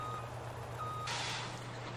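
Steady reversing beeps from a semi-truck backing up a semi-trailer in Farming Simulator 17, a clear alarm tone over a low engine hum with a hiss of air near the end, no talking.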